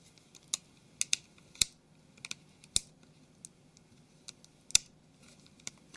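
A plastic pry tool works around the edge of a Samsung Galaxy Mega phone, giving close, sharp, scattered clicks and small snaps against a quiet background.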